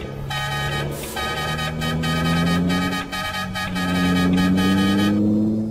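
Truck horn in a truck-driving video game, a series of loud, close honks in repeated bursts over a steady droning engine whose pitch rises and shifts throughout.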